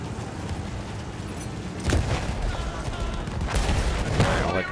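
Gunfire and explosions in the video game Battlefield 1 during a World War I tank battle: dense, continuous fusillade with a couple of louder booming bursts, heard close and loud throughout.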